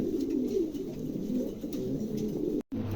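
A pair of pom pigeons coos steadily and continuously at close range, a low throaty warbling that breaks off briefly near the end.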